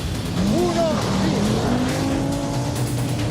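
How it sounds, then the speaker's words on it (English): Turbocharged four-wheel-drive Audi Quattro rally car racing hard, its engine note rising and falling in loud sweeping pitch changes across the whole stretch, with a faint squeal of tyres mixed in. "Superior power and traction with a turbocharged four-wheel drive Audi is too much."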